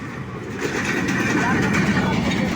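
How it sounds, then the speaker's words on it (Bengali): A train passes over the Kuril railway line crossing in Dhaka, a steady loud rumble and rattle of wheels and carriages close by, continuous throughout with a faint voice underneath. "ট্রেন চলে এসেছে"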